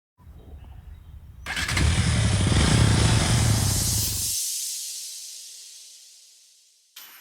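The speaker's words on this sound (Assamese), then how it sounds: "বল বাইক ষ্টাৰ্ট দে" A motorcycle kicks into life with a sudden loud start close by, roars steadily for a few seconds, then its low engine note cuts away, leaving a fading hiss before a brief final burst.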